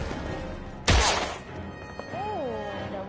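Gunshot in the video game Heavy Rain, a single sharp loud bang bursting out over game ambience, then fading into tonal background sounds.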